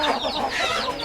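Aseel chickens cluck nearby in a short, busy burst of overlapping fowl calls lasting about a second.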